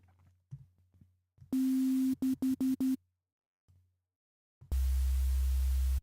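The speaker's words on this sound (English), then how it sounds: "So what you do is you just need a sine. I'm going to go basic shape sine. And you need some white noise." Synthesized sine wave layered with white noise: a steady low tone under a bright hiss, played in loud bursts, first a long block, then several quick stabs, then another sustained loud block.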